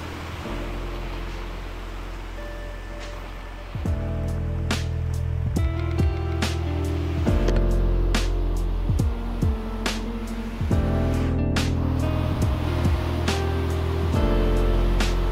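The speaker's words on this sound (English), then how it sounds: "So we are on course and we're already meeting some, elevated waves." Elevated waves wash against a sailing ship at sea in the Sailwind game, a steady surf rush with recurring swells and layered tonal music playing throughout.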